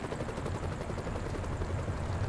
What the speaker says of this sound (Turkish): O helikopter gidiyor yukarıdan.